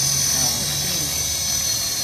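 An HK450GT Pro remote-control helicopter hovering gives off a steady, high-pitched motor and rotor whine that holds at an even level throughout, with a faint voice briefly underneath.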